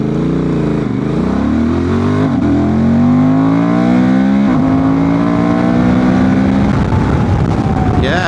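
A remapped Honda Transalp 750 motorcycle accelerates hard, its engine note loud and close, rising steadily through several gears with brief dips at each shift, under strong wind rush.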